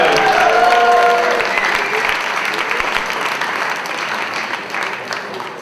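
Enthusiastic applause from a slam poetry audience, loud at first and gradually thinning out, with a few faint voices mixed in.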